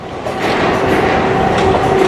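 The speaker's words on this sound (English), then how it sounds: "It's actually a train that's coming, approaching" A Long Island Railroad train approaches and passes in Woodside, Queens, a loud, steady rumble of wheels on track with a faint squeal running through it, close and continuous throughout.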